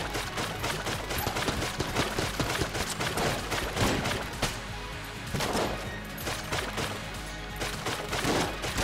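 Rapid bursts of video game gunfire from a weak weapon in Enter the Gungeon, dense and continuous shots layered with crashing impacts throughout, loud and busy with no pauses.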